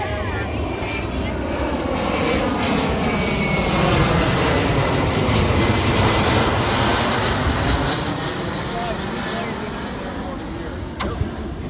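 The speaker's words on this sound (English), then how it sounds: "let's watch this airplane pass by." A fixed-wing airplane passes overhead at an outdoor wedding, a steady loud broadband engine roar that swells toward the middle and eases off, close and continuous throughout.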